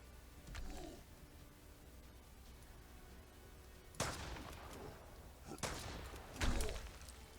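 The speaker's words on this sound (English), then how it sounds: "Shotgun to the face." Several loud shotgun blasts boom in the survival video game Mist Survival, one early faint shot followed by three sharp, heavy reports spaced about a second apart over a quiet background.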